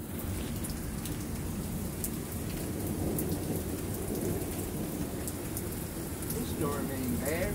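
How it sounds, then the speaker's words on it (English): Heavy rain pours steadily through a thunderstorm, with low rumbling thunder rolling underneath throughout and voices faintly talking over the storm. "This storm ain't bad."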